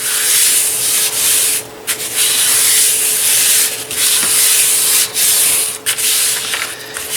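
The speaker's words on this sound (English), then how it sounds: "And I just rub it a little bit until everything adheres good" A hand rubbing paper down onto a box so it adheres, a loud, close, continuous dry scratching and rustling with a few brief pauses, no talking.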